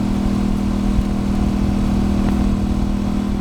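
A motorcycle cruising at about 50 to 60 mph, captured on a DJI Action 2 camera, gives a steady, loud, unbroken engine and road drone with no voices.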